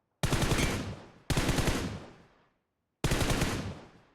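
Three loud, close bursts of automatic gunfire in PUBG Mobile, fired through a 4x scope, each a sharp rapid volley with a short decaying tail, separated by brief silences.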